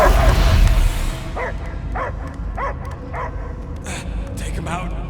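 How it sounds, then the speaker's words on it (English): A dog barks repeatedly in a steady run of sharp yips in Guardians of the Galaxy, the video game, in the Knowhere chapter. Voices talk briefly before the barking starts. "I hear only barking"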